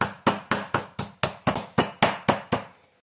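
Meat being pounded flat under plastic film, about a dozen sharp, evenly spaced thuds in a steady rhythm, loud and close.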